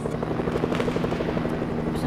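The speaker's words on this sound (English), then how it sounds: "I'm just gonna get the helicopter and get the freak out of here" A helicopter in the Fortnite video game, with a steady close rotor thump and engine hum running continuously.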